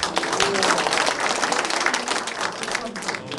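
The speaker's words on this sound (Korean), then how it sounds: "박수 한번 부탁드립니다." Audience applause at a graduation ceremony, a dense continuous roar of many hands clapping at once that holds steady for over three seconds, then eases slightly toward the end.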